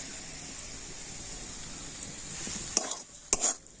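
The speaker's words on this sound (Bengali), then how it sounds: "কাশ্মীরি মেথিটা দিয়েও আবার সব কিছু ভালো করে নাড়াচাড়া করে নেব" A cauliflower chop filling with crushed kasuri methi is stirred in a pan: a soft, steady frying hiss, then a couple of louder scrapes and clinks of the spoon near the end.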